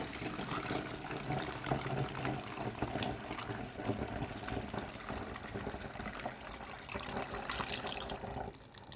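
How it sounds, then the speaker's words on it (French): Homemade ivy laundry detergent poured through a funnel into a bottle, making a steady, continuous liquid splashing and trickling that runs for about eight seconds before easing off. "il suffit tout simplement à l'aide d'un entonnoir, voilà, de verser sa lessive à l'intérieur"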